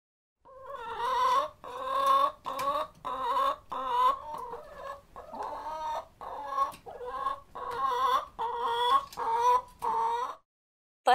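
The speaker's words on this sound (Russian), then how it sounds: "Курица кудахчет." A hen clucking in a steady run of about a dozen short, throaty bursts, close and clear with no talk over it.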